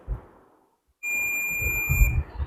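A clamp meter set to continuity mode lets out a steady high-pitched electronic beep lasting about a second and a half, with faint handling noise before it and low rumble beneath.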